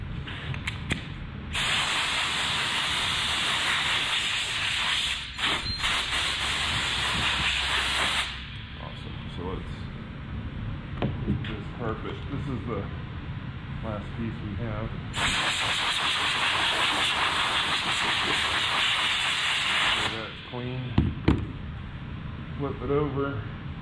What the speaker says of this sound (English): Let's clean off our work table. Find the blower.